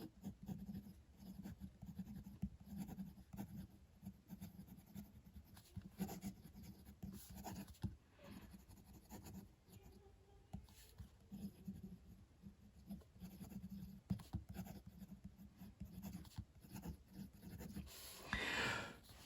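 A Ferris Wheel Press Brush fountain pen with a fine nib writes on paper, a soft continuous scratchy rubbing of quick strokes and pauses, close and quiet with no talking.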